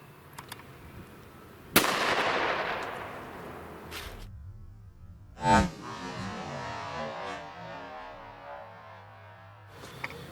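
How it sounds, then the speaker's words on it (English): A single sharp .40 S&W pistol shot cracks out with a decaying echo, followed by a thud and further clatter, recorded at a shooting test into layered clothing. "We're going to find out, because we're going to shoot the 40 next."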